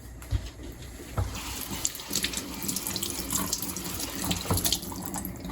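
Tap water runs into a sink as fresh thyme is washed under it, a steady close splashing with shifting gushes as the stream hits the herbs and basin, no talking.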